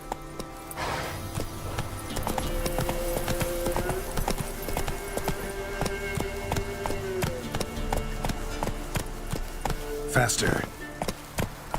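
A horse gallops in The Witcher 3: Wild Hunt, with rapid, steady hoofbeats running throughout, a brief whinny, and a rider's short spoken urging over the clatter.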